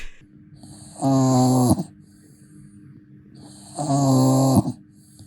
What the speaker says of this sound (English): Her snore is as endearing as she is. It's delicate, almost too light to hear.